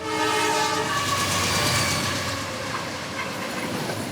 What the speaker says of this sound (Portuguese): onde o silêncio só é interrompido pelo barulho do trem